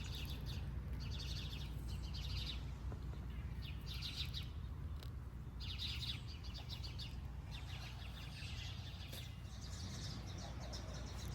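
Small birds chirp and tweet in a back garden in early April, repeated bursts of high bright calls over a soft steady outdoor background, moderately near, with no talking.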